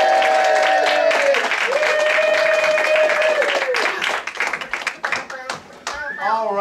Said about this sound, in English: Let's clap them back in.